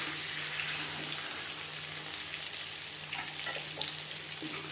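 Eggs fry in oil until reddish, giving a continuous even sizzle with faint watery crackle close by, no voices.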